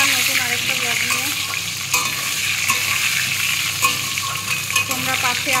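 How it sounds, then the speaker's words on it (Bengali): Potatoes fry in a pan with a steady, close broadband sizzle, joined by a few short stirring scrapes. Brief tonal bursts of background music rise over it, and no one speaks. "আলুগুলো ভেজে নিয়ে আগে একটু, তারপরে পেঁপেটা ভাজবো"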